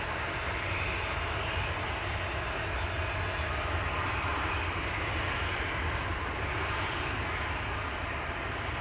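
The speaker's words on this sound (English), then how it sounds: "Not sure if you guys heard the engine that they are testing." A constant, loud roar of an aircraft engine being tested at high power at Amsterdam Schiphol Airport, broadband and unbroken throughout, with no voices.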